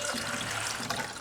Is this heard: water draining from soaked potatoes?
yes